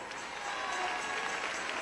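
A church congregation applauds during worship, a steady wash of many hands clapping together that sounds crowded and even, with a faint sustained tone running beneath it.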